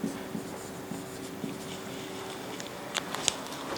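Handwriting during a university programming lecture: faint, continuous scratching of a pen on a board or paper, steady and low over a quiet room hum, with a few brief tapping clicks toward the end.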